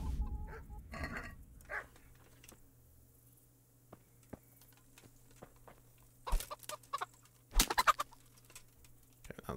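Chickens in Kingdom Come: Deliverance cluck and flap amid faint game ambience, with a few scattered soft clucks and thumps early on, then louder bursts of flapping and squawking near the end.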